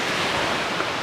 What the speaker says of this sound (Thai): ลมแรงมากแล้ว